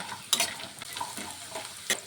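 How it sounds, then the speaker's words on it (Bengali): Bori lentil dumplings fry in oil at one side of a pan where onions are also cooking, giving a steady close sizzle broken by a few sharp scrapes of a stirring spoon. "কয়েকটি বড়ি আমি এই সাইডে ভেজে নেব।"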